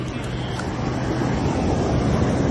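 Rushing surf and wind roar steadily and loudly, a broad wash of breaking waves close by with no pauses.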